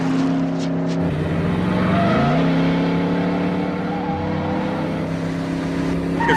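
Cars in a movie car chase, including a Dodge Diplomat, roar with steady, loud engine drone and rising revs, a continuous dense rumble throughout.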